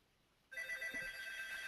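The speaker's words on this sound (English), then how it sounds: "I hear a phone." A telephone rings during an online conversation, a steady electronic trill starting abruptly and continuing faintly but clearly over a quiet background.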